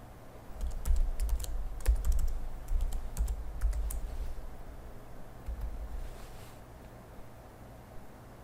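Computer keyboard typing as a default username and password are entered: quick irregular bursts of key clicks over a low background hum, close and fairly quiet, thinning out toward the end.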